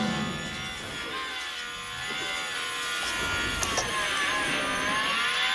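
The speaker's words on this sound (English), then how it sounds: "GP2 engine." A GP2-spec Formula 1 car engine in the F1 Manager 2023 racing game, a high-pitched harmonic whine holding steady and rising slightly as the car runs down the straight, heard alone without commentary.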